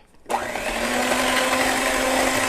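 An electric mixer beats cake batter of yogurt and vanilla, switching on abruptly and whirring steadily and loudly at close range with a constant motor whine until it cuts off.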